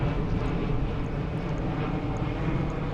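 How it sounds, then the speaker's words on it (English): Fixed-wing aircraft passing overhead near Windsor Castle, a steady broad engine roar that holds at a constant level throughout with no speech. "See what I mean about the planes every 2 seconds?"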